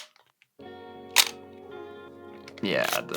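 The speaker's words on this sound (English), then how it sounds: "shutter is pretty loud, so that's not ideal" A sharp mechanical film camera shutter click, followed a moment later by a second louder snap, over a steady humming tonal background.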